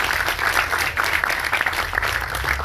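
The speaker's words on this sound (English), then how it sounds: "We gotta give a big round of applause to Ed Shea." A conference audience applauds Ed Shea at the opening of Propelify in New Jersey, a steady dense wash of many hands clapping at close range with no break across the short burst.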